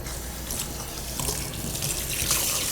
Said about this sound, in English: I cup my hand, and I let my hand put the water up